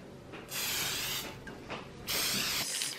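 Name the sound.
cooking oil spray on waffle maker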